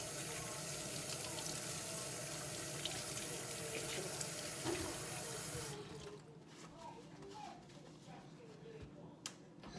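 Hands washed under a running kitchen tap, a steady broad rush of water for about six seconds that then cuts back to quieter splashing and dripping.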